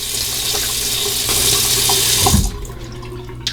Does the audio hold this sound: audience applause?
no